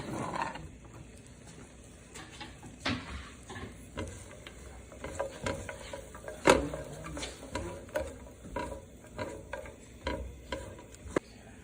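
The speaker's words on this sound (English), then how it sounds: "toss for about 2 to 3 minutes until your croutons are browned" Bread cubes toss and scrape in melted butter in a pan, with irregular close clicks and rustles over a low steady background hiss and no talking.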